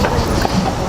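Horse hooves clip-clop steadily on a downtown Louisville street as the animal pulls a carriage, a continuous rhythmic clatter with no voices in the clip.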